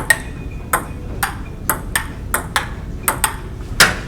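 A string of sharp, hard clacks like a ping pong paddle striking a table, repeating at an irregular quick pace over a low background hum.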